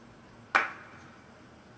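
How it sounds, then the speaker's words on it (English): Two layered hand claps in a downtempo electronic music production, panned left and right and slightly overdriven, each a sharp bright crack with a short decaying tail, the second arriving just over a second after the first, with no voices. "layered that with just a couple of hand claps"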